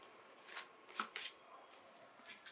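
Tarot cards are shuffled by hand in a quiet room, making several short, soft riffling bursts and light flicks, close and faint.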